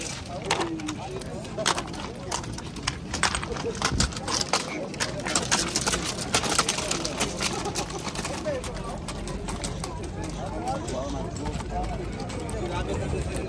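Horses clip-clop at a busy horse market in Jalal-Abad, Kyrgyzstan, their hooves dense and steady under constant crowd noise. People talk throughout.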